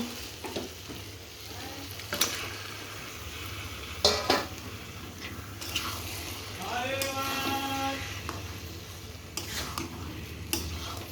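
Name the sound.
chicken added to a hot pan, sizzling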